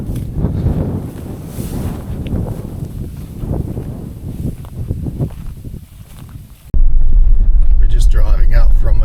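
A vehicle drives out of an overnight camp on Duncan Road in the Kimberley, with a heavy rumble mixed with wind buffeting the microphone and people talking over it, then a sudden louder, steadier roar of road noise near the end.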